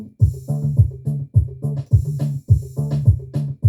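An electronic bongo-style beat from a boutique Roland 808 drum machine repeats with a sharp snare added on the backbeats, tight and dry, a short looping groove with no voices.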